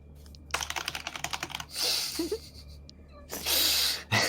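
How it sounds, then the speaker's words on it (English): In Vampire The Masquerade: Shadows of New York, a mechanical keyboard clacks in a quick burst of close, crisp keystrokes, followed by breathy whooshes and a brief low vocal sound. "I do wonder if I could get accustomed to one of these loud mechanical keyboards some people here love to use"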